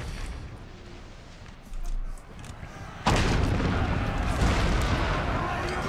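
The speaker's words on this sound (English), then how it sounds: "And the rocket's just continuing to bombard here." Rocket artillery bombarding in Napoleon Total War, a rumbling barrage of booms that swells midway and then erupts into a loud, sustained roar of distant blasts, with a voice talking over it.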